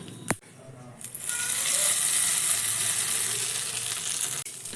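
Hot tempering with curry leaves poured into chutney: a sharp clink, then a loud steady sizzle that bursts up and hisses continuously for several seconds before cutting off, with no talk over it.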